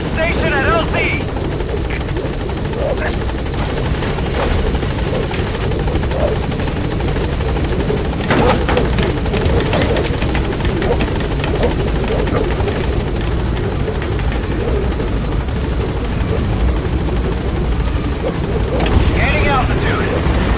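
A military helicopter in Metal Gear Solid V: The Phantom Pain, with loud, continuous rotor thrum and engine whine close by throughout, and radio voices speaking over the din.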